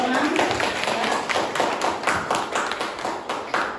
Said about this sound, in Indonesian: beri tepuk tangan dulu nak untuk kelompok 6